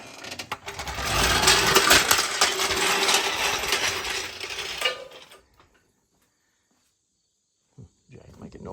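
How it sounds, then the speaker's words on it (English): A jack under a Chevrolet Silverado during coil spring work gives off a loud, continuous mechanical whirring and grinding for about five seconds, then cuts off to near silence, followed by a short thump and some faint noise. "Jack making noises."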